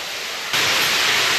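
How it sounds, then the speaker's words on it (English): Ocean waves roar through a concrete storm drain in Australia, a steady broadband rush that swells suddenly louder and echoes continuously, with no talking. "It's waves, bro."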